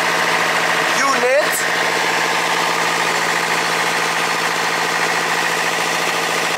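A yacht's engine idles steadily and loudly throughout, a constant low rumble with a brief voice and a short whistle-like sweep early on.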